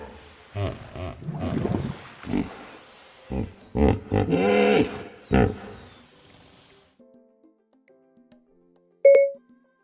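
Hippopotamus call: a series of deep, grunting, wheezing bellows in uneven bursts, loud and close, ending in silence followed by a short electronic chime.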